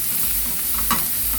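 Onions frying in oil in a home kitchen pan while a steak is cooked, giving a steady close hiss of sizzling with faint stirring scrapes and no talk.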